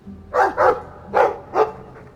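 Dog in the video game Dragon Age II barking four times in two quick pairs, close and clear with nothing else over it.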